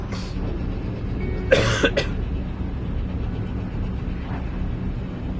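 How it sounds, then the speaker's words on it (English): A person clears a troubled throat with a short burst and then a stronger double rasp, close to the microphone over a low steady room hum during a gaming livestream. "I might actually have to step out my room to go clear my throat"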